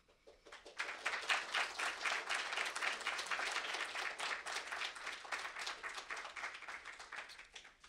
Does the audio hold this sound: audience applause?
yes